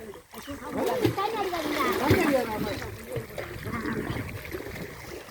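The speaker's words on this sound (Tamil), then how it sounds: "தண்ணி அடிக்கிறா மேல" Water splashes close by during a first swimming lesson as a learner kicks and moves in the pool, with irregular sloshing under steady talking.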